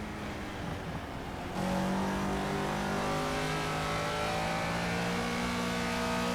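A race car engine hums steadily in the Project Cars video game, then rises into a louder, sustained drone with shifting tonal lines as the car accelerates, with no talk over it.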